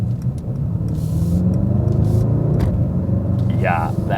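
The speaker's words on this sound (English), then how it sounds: "that's that German grunt from that just 603 horsepower engine" Mercedes-AMG E63 S with a 603-horsepower engine in Sport Plus mode, giving a steady low rumble heard from inside the car, with a brief rising rev near the end; people talk over it.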